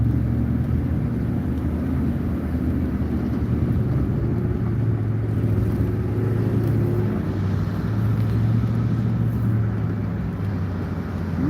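A dually pickup truck drives up along Main Street in Williston, North Dakota, its deep engine rumble steady and fairly loud against continuous road and traffic noise, with no talk.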